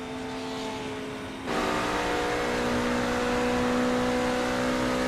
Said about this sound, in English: this is the long stretch all the way through the gears, all the way up to 8th gear